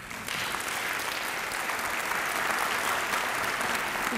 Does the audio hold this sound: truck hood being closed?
no